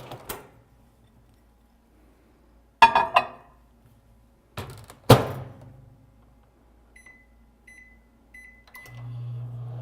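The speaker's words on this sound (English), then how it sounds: "put it in the microwave, heat it up" A few loud thuds and clunks, like a microwave door closing and buttons pressed, then a few short beeps and a low steady hum as the microwave oven starts heating chicken.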